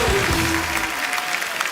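Studio audience at a comedy talk show bursts into dense, steady applause welcoming actor-director Mahesh Manjrekar and actress Medha Manjrekar onto the stage, a full roar of clapping that fills the short moment.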